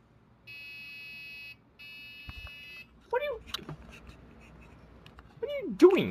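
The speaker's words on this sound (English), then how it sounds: "Why are you beeping at me?" A Dell OptiPlex computer emits two steady electronic beep tones, each about a second long with a short gap, followed by a person talking and clattering sounds.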